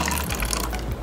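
An Aquverse 5PH water cooler pours cold water from its dispenser, producing a continuous, close, hissing gush of liquid filling a cup, with no talking.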